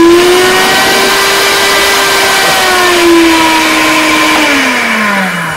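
A Moulinex blender motor runs loud and close, its steady whine holding pitch, then dropping and shifting as the speed is varied.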